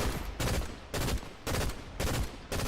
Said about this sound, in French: il y a quelqu'un qui tire